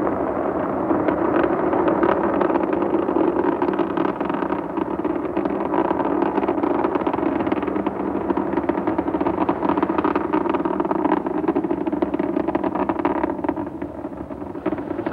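The three main engines of Space Shuttle Atlantis roar steadily during the STS-44 launch climb, a continuous broadband rumble with no voices.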